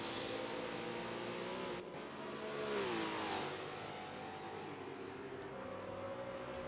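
Historic Trans Am race cars in a sim racing game at Road Atlanta, drag racing down to turn 10; engines roar and rise in pitch as several cars accelerate past, loud and steady.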